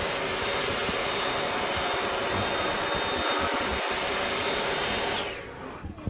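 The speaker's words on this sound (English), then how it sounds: "the Dyson V8 Absolute is ideal for cleaning ceilings and along the tops of curtains" Dyson V8 Absolute cordless vacuum cleaner whirring at a steady high pitch for about five seconds, with a couple of brief dips in the low rumble, before the motor winds down and fades.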